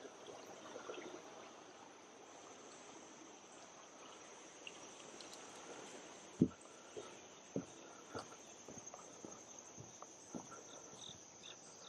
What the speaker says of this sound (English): That's a nice, tranquil little creek.